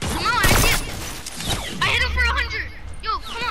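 Video game shootout gunfire with loud bursts of shots near the start and again around the midpoint, mixed with excited voices talking throughout.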